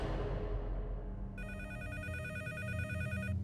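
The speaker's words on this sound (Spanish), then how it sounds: "Y en la madrugada mi teléfono sonó." A telephone rings in the early-morning hours, an electronic trilling ring that starts partway in and continues steadily over a low background rumble, with no one speaking.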